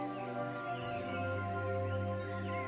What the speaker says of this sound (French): Elle aimait écouter les gazouillis des oiseaux